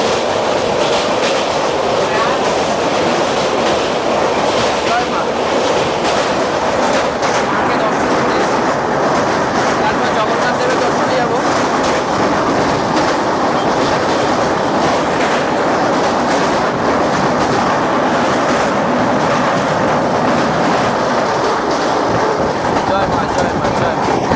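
Steady loud rumble of the Sealdah–Puri Duronto Express running at speed, heard from inside, with continuous rail noise and clickety-clack from the carriages filling the whole stretch without a break.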